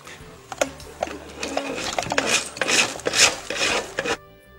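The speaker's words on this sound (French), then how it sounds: "on prend un savon déjà acheté, puis on va le râper, le savon qui sent rien, puis on va le râper sur une râpe" A bar of unscented soap rubbed against a grater, rhythmic scraping strokes that build in loudness and speed, close and alone, ending abruptly.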